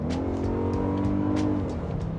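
A 2024 Toyota Grand Highlander's engine, 362 horsepower with a 6-speed automatic, pulls hard under acceleration with a steady, rising drone and gear-change pitch shifts, loud and close with no talking.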